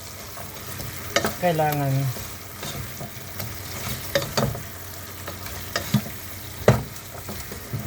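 Chicken pieces dropped into a pan of caramelized sauce with garlic, hissing and crackling as it fries, with utensil knocks and stirring scrapes and a brief spoken word.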